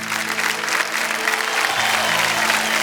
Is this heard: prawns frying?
no